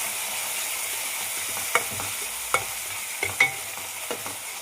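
Onion masala sizzles steadily in a hot pan with salt and turmeric, broken by several sharp scrapes and clinks of a stirring spoon against the pan.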